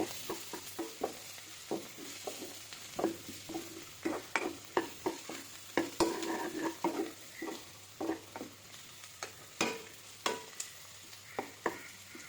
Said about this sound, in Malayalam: കറിവേപ്പില ഇട്ടിട്ടുണ്ട്, കറിവേപ്പില ഇട്ട് കൊടുക്കാൻ പോവുകയാണ്